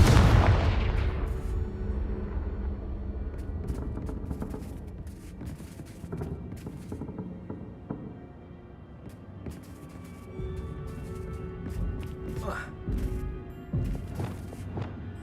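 A Confringo blast spell in Hogwarts Legacy opens with a loud booming explosion that slowly decays into rumbling debris, followed by scattered smaller impacts and crackles at a moderate level.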